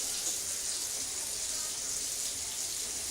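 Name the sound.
hot water running from a kitchen tap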